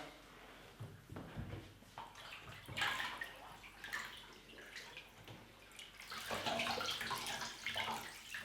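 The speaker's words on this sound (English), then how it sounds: "Then just let the water out the bath." Water rushes and gurgles steadily as a bathtub drains, with splashy bursts and a hollow swirl throughout.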